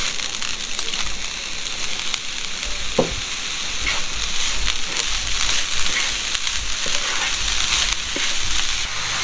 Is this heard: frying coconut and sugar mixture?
yes